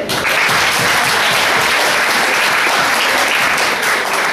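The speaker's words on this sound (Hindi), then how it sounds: "चलो जोर से तालियां बजाएं।" Students at a Delhi public school applaud loudly, dense continuous clapping from a large group, close and sustained for several seconds.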